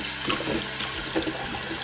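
Tap water runs steadily into a sink while a carved pumpkin is rinsed out, with a few soft splashes and knocks close by and no talking.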